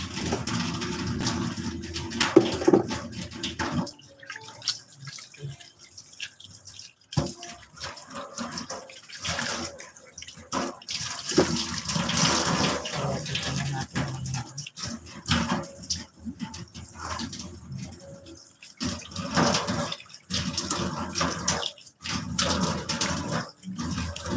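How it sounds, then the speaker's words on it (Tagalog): Steady running water while hair is rinsed after a conditioner and coconut treatment, a continuous close splashing wash broken by a few brief pauses. "Tapos tayo magbanlaw."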